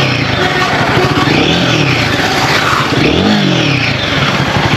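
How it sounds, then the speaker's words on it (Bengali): Royal Enfield Guerrilla 450 motorcycle exhaust running steadily and loud, with low engine rumble and rising and falling revs heard up close from the riding seat, no voices. "এর এক্সস্ট সাউন্ডটা কেমন লাগে একটা রাইডিং সিটে বসে"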